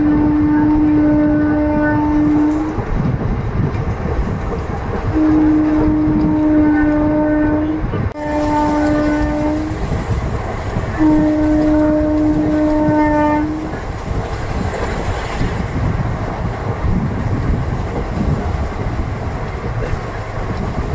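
Passenger train 17231 rumbles at speed past a halt station with steady clattering wheel and carriage noise, while its horn sounds in several long, loud blasts.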